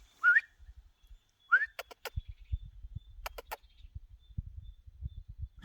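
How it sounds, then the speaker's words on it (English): A person whistles twice, short bright rising calls a second or so apart, trying to get the attention of a blind and deaf dog, followed by a few clicks and low handling noise in a quiet room. "I tried whistling like."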